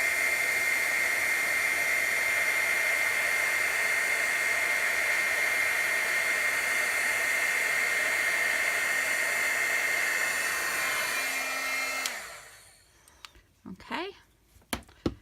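A heat tool blows hot air to melt embossing powder, a loud continuous whooshing roar with a steady whine that cuts off near the end, followed by faint handling sounds.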